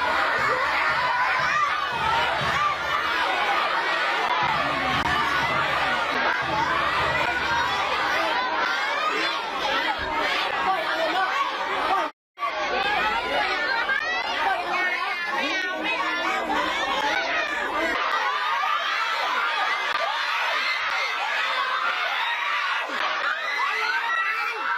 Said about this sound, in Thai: เสียงเด็กนี่ก็แบบอื้ออึงไปหมดเลยนะครับเหมือนไล่ใช่ไหม